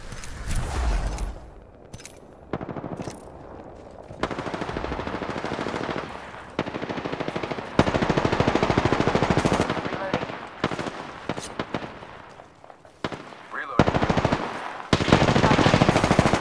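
Rapid automatic gunfire in a video game, dense loud bursts that stop and start over the whole stretch with brief pauses, mixed with game sounds and short spoken callouts.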